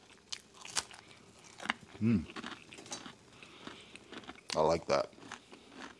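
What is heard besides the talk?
chewing buckwheat crackers with dates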